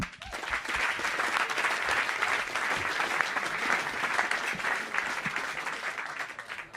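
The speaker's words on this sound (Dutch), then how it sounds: "Ik wil graag een applaus voor Tseert Branja." An audience at a literary reading event applauds a poet, a steady, moderately loud wash of clapping that holds evenly throughout without any talk.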